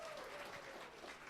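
Applause from the audience at a fish farmer competition, a steady wash of clapping that is fairly faint and distant, filling the brief moment alone.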